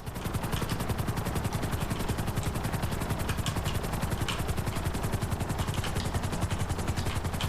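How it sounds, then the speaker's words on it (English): Police helicopter in Grand Theft Auto V, a fast rhythmic rotor chop pulsing steadily and loudly for several seconds, close and continuous. "Police chopper. Just randomly spawned in."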